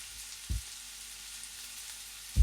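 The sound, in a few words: chopped onion frying in hot oil in a pressure cooker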